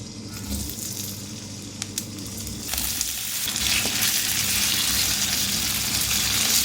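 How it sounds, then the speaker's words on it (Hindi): Large peeled potato cubes frying in hot oil give a steady, bright sizzling hiss that swells and grows denser partway through, with a few faint clicks and no talking. "तेल गरम हो गया है, अब मैं इसको फ्राई करूँगी।"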